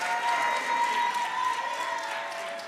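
An audience at a political debate between senate candidates applauds steadily with scattered cheers, a dense even wash of clapping throughout.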